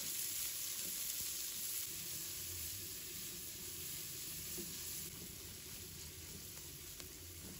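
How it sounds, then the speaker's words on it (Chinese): Garlic, carrot and onion stir-fry in hot oil in a wok over medium-low heat, a steady close sizzle with faint scrapes of stirring throughout. "把大蒜、胡萝卜、洋葱倒入锅中，开中小火慢炒，把它们炒香"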